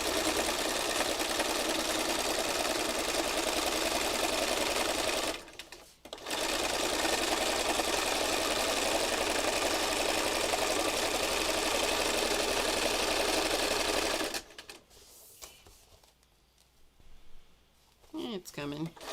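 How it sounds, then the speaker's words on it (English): A sewing machine runs a wandering serpentine stitch over fabric spirals on a funky heart piece, a loud steady whir with one brief pause before stopping, and a voice speaks once it goes quiet. "am stitching over all of those spirals that I did already"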